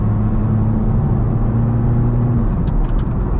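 Ferrari F430 converted to a manual transmission accelerating hard, its engine revving loud and close with a steady rising whine before easing off as it moves through the gears.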